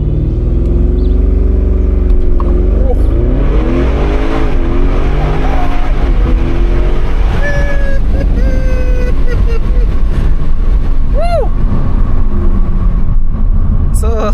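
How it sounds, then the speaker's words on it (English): A 2017 Audi RS6 C7 launches hard under launch control, its engine roaring loudly as it climbs rapidly through the gears with sharp shifts, heard from inside the cabin without talk. "Now let's turn off the AC and let's do a launch control."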